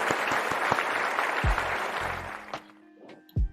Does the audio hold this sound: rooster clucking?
no